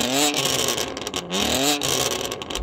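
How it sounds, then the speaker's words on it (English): A BMW M3 with about 700 horsepower revs its engine near the listener, the pitch climbing and falling over several rises in quick succession. No one speaks over it. "Right, Sam, rev up your car."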